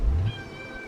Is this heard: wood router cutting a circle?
no